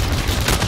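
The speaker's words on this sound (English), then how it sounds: "Shooting on top of prison." Rapid video game gunfire crackles in a dense burst of close shots lasting under a second, with no talk.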